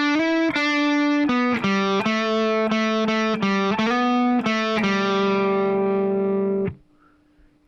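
Guitar riff played slowly on a distorted, effects-laden electric guitar, a loud run of separate picked notes and slides with sustained tones, then a final ring-out fading into quiet hum.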